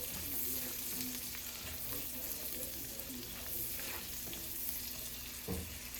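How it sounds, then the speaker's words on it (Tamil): Ground masala for kadai paneer sautés on a slow flame, a quiet, even sizzle with faint stirring scrapes throughout, low in level and without speech. "நல்லா போட்டு ஒரு 30 செகண்ட்ஸுக்கு ஸ்லோ ஃப்ளேமில் வதக்கி விட்டுக்கோங்க"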